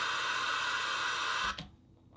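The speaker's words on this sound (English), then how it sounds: "So here's the pink noise." A pink noise test signal plays as a dense, steady broadband hiss for about a second and a half, then cuts off abruptly to a near-silent noise floor.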